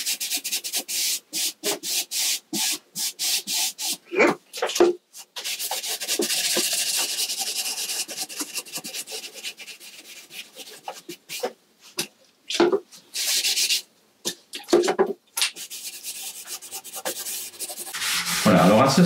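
Cloth or brush rubbing and wiping paint over wooden mouldings and their corners to build a worn two-tone gradient, a close, repeated scraping rub in short strokes and longer sweeps with brief pauses between.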